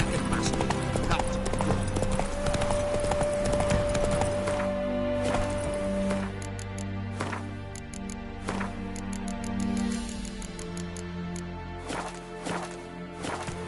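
Roach the horse galloping in The Witcher 3 video game, hooves clip-clopping in a quick rhythm over game music, with a voice talking over it.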